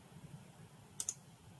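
A computer mouse clicks on a toggle in a spreadsheet: two quick, faint clicks close together in an otherwise quiet room.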